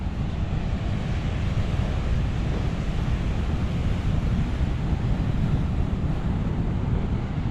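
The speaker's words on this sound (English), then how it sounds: "Some of these waves are pretty decent sized." Ocean waves breaking on a sandy surf beach at Lakes Entrance's Eastern Beach, heard as a constant heavy roar with strong wind buffeting the microphone and no distinct individual breakers.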